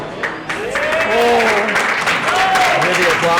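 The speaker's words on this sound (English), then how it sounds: "Hear the applause there from our live spectators." Steady applause and cheering from a live crowd at an Echo Arena esports tournament in Toronto fill the room, with voices calling out over the clapping throughout.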